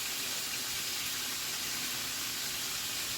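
Beef sears in a slow cooker pot with a steady, even sizzling hiss that runs unbroken from start to finish. It is fairly quiet and no one speaks.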